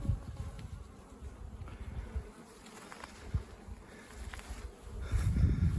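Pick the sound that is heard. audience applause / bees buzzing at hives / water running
bees buzzing at hives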